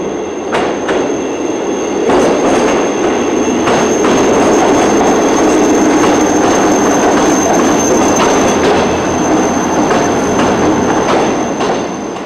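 A West Midlands train runs steadily on its rails toward Solihull, with a loud continuous rumble, wheel noise and periodic clicks from the track joints.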